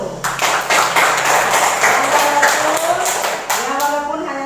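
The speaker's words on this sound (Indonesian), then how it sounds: "Ya, tepuk tangan dulu." Children in a classroom clap their hands together in a dense, steady patter that lasts a few seconds, with a voice rising near the end.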